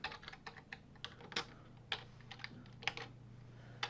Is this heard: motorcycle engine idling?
no